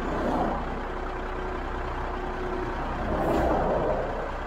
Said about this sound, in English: I've still got a HGV in lane one.